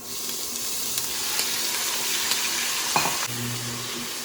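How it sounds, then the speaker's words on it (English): Minced meat frying in oil in a pan on high heat makes a loud, steady sizzle up close, with a few utensil clinks and a brief stirring scrape near the end; no one speaks. "To a pan on high heat, add 2 teaspoons of oil. Then, add your minced meat."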